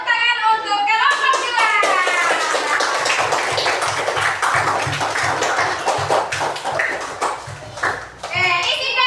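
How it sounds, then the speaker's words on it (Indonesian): Children clap together for a group in a classroom, with rapid, close, rhythmic hand claps over several seconds. Excited children's voices rise at the start and again at the end. "Tepuk tangan untuk kelompok"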